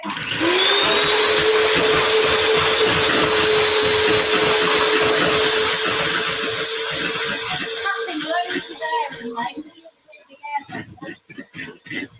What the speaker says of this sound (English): So we'll just give this a quick whisk.